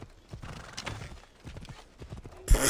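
A horse's hooves clip-clop in Assassin's Creed Odyssey, as a rapid, even run of soft thuds over a low game background, ending in a louder sudden burst.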